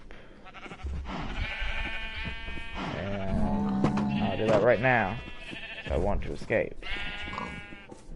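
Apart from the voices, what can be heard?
sheep bleating in video game Minecraft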